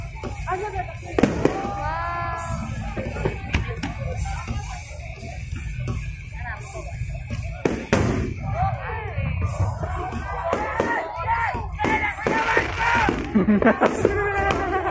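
Fireworks go off at an outdoor political rally, with sharp bangs and crackling bursts, plus whistling rising trails, over a noisy crowd with people talking and cheering close by.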